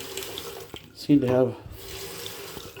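A hall bathroom sink faucet in a house runs in a short burst of splashing water lasting under half a second, amid quiet room noise, while a person speaks.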